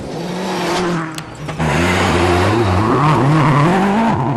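A Peugeot 307 WRC rally car engine, running unhealthily, drones and revs unevenly, its pitch wavering and sputtering, loud and close throughout.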